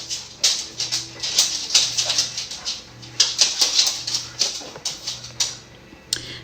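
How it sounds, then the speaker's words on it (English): Several pet dogs whimper and whine in short, repeated high bursts during a Bible reading, close and insistent, with a steady low hum underneath and no speech over them. "Sorry about the background noise, y'all. My dogs, like I said, they always get riled up when I read"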